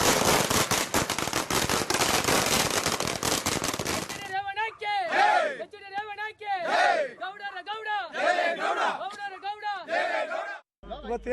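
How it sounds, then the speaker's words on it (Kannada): Firecrackers burst in a dense, rapid, loud crackling barrage as political party workers celebrate a court bail decision. After about four seconds the bursts stop, and a crowd shouts and chants in rhythmic bursts. "ಜೆಡಿಎಸ್ ಕಾರ್ಯಕರ್ತರು ಪಟಾಕಿ ಸಿಡಿಸಿ ಸಂಭ್ರಮಿಸಿದ್ರು"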